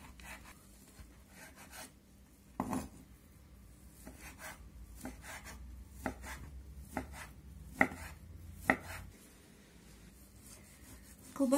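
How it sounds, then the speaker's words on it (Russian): Irregular knife chops on a cutting board, soft taps with a few sharper, louder strikes, cutting ingredients for meat solyanka, recorded close with faint background hiss and no talking. "Я режу не прям так сильно мелко."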